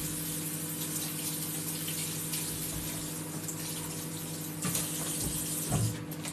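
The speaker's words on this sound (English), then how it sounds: "I will just give this a rinse" A dish is rinsed under running tap water, a steady, fairly faint broadband rush with a low hum beneath and a few clinks near the end.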